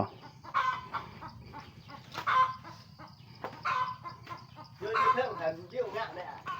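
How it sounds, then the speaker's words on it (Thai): Chickens cluck repeatedly around a farm hut in rural Laos, with short bursts of clucking spread through the scene and voices talking over them. "มีไก่ด้วย"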